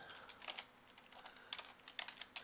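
Keys clatter on a computer keyboard while CSS margin code is typed for a centred banner in a Dreamweaver web design project, a few quick bursts of clicks close to the mic, soft and without talk.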